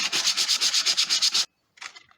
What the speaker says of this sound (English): so now I'm sanding at 100.